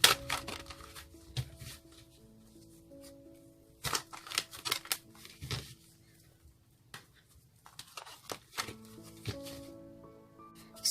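Tarot cards are shuffled in several close, crisp bursts of riffling and flicking, separated by quieter pauses over a soft musical background.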